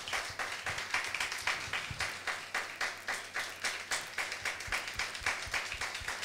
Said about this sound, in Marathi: let's clap and welcome him.